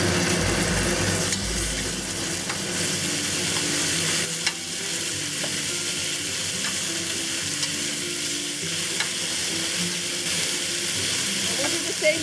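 A second batch of beef browns in a little oil in a pot for Taiwanese beef noodle soup, making a loud, continuous close sizzle with occasional scraping stirs.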